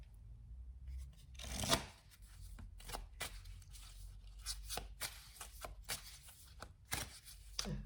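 Tarot cards are shuffled by hand in quiet, soft riffles and taps with a louder flurry near the start, then a string of shorter shuffles, all close and with no speech.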